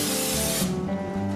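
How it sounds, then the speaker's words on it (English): Cooking spray hisses steadily from an aerosol can while a cake pan is greased, one continuous close burst lasting about a second and a half. "Make sure you grease your pan."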